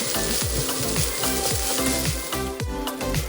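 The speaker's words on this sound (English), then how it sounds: "Now it's time to add in the rice. Combine well, and you want to make sure that the rice and the eggs and the garlic are nicely" Rice, eggs and garlic stir-fried together in a hot pan for salmon fried rice, with steady loud sizzling and a rhythmic scrape-and-toss of the spatula repeating about twice a second, no voices.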